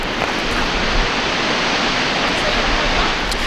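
Waterfall in Yosemite Valley, a steady, dense wash of broadband rushing water, constant and fairly loud throughout with no voices over it.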